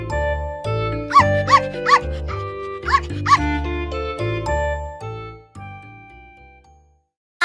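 A pet dog's barks in a children's nursery-rhyme song, several short yapping barks in quick pairs over bright music with jingling bells, fading out near the end.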